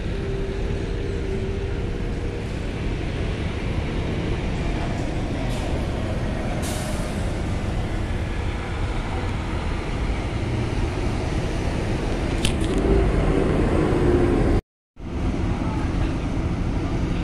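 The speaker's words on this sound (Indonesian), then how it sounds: "lapangan parkir kendaraan di dermaga 2, khususnya kendaraan truk." Trucks and other vehicles idle and rumble in a crowded parking area at the Bakauheni ferry port pier at night, a steady low engine drone throughout with a faint hiss of air brakes and a brief dropout near the end.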